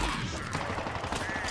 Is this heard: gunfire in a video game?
yes